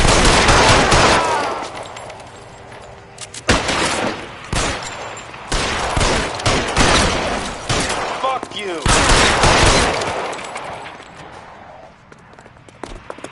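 Shootout gunfire in the game L.A. Noire: loud bursts of rapid shots and volleys in clusters, separated by brief lulls, with shouted voices mixed in and the firing tapering toward the end.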